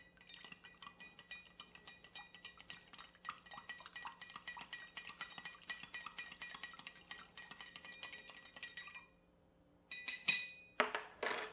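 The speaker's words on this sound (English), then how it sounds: "Next, I'm going to give it a stir." A spoon clinks rapidly against glass while stirring an espresso bourbon old fashioned with chocolate bitters, a steady run of close, bright taps lasting several seconds before a brief pause and a few louder clinks.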